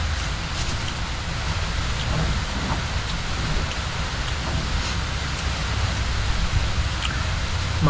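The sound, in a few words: rain falling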